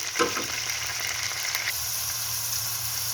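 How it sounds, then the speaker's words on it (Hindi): Chicken frying in a pan for a chicken and cabbage salan, a continuous close sizzle with a few brief stirring scrapes near the start. "देखें चिकन जो है हमारा बहुत ही अच्छी तरह फ्राई हो रहा है"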